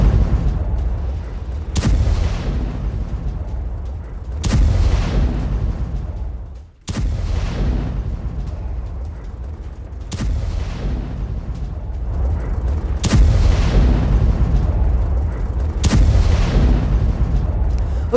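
Heavy explosions from a Russian Geran drone strike on Ukrainian army positions in Chernihiv boom repeatedly, roughly every two to three seconds, each a sharp loud blast followed by a long rumbling tail over constant low roar.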